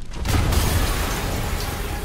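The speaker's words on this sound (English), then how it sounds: "an explosion just..." An explosion in the video game Marvel's Spider-Man erupts as a loud, sustained low-frequency boom with broad rumbling noise that holds steady for about two seconds.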